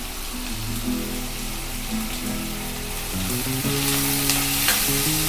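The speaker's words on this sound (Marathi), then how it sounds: "हलवून घेऊ, थोडा वेळ शिजू द्या।" Chopped tomato and salt sizzle loudly in a pan for matki usal, a steady close frying hiss with faint stirring underneath.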